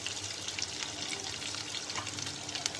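Mutton sizzles and crackles steadily in a pot while frying for pilao, a dense, close crackle with small pops and no voices.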